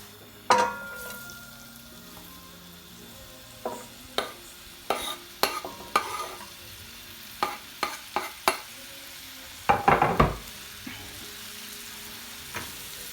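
Onions reduce in a pan for chicken korma, with ginger garlic paste cooking in. A spoon stirs and scrapes in scattered sharp strokes over a faint, steady sizzle.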